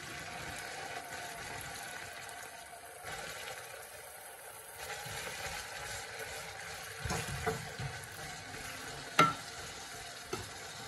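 Onions frying in a pan with ginger-garlic paste, a steady soft sizzle with occasional stirring scrapes and a couple of sharper clinks of a utensil against the pan.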